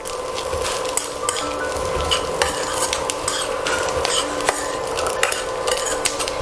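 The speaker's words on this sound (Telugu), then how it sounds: "ఈ నెయ్యిలో మనం కట్ చేసి పెట్టుకున్న పచ్చి కొబ్బరిని కొద్దిగా పచ్చి వాసన పోయేంత వరకు వేయించుకోవాలి" Fresh coconut pieces fried in ghee in a kadai, with a soft sizzle beneath frequent rhythmic scraping and clinking of a metal spoon stirring against the pan, close and busy, no speech.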